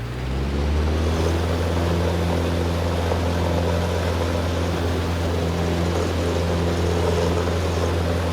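A propeller aircraft engine roars at full takeoff power in X-Plane 11, a loud, steady droning hum with strong low harmonics that holds unbroken throughout.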